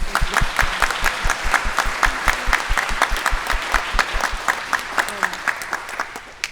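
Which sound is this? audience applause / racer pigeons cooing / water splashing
audience applause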